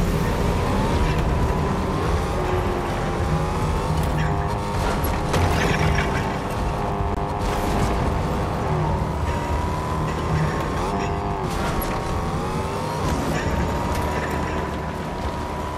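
A car drives in the Fortnite video game, its engine drone running steadily throughout with mechanical rattles and clatter layered over a busy, continuous game soundtrack.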